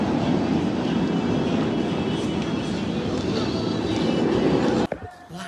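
Roller coaster train at Cedar Point amusement park, a steady loud rumbling roar with clattering across most of the clip, cutting off abruptly near the end, with people talking over it.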